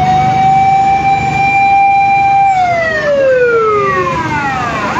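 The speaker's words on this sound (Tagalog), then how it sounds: "ilang fire truck na yung dumating," Fire truck sirens wailing loudly and close at a fire in Anabu Hills, Imus, Cavite, a sustained high tone that then sweeps downward as the truck passes, with a second siren layered over it.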